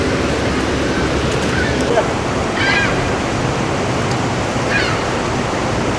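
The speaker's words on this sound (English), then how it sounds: "Well, the water's rushing in." Water rushing into a canal lock beside a sailboat: a constant, broad roar of churning water that stays loud and even throughout, with a few brief gull-like calls above it.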